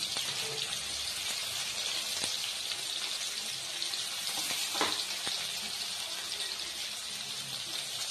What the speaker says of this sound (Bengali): এখানে পেঁয়াজ দিয়ে দেবো, আর দিয়ে দেবো কাঁচা লঙ্কা,